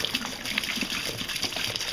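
A gallon of water poured into a large batch of soaking animal hides during rehydration, a steady gushing splash of liquid lasting about two seconds, fairly close and continuous with no talk over it.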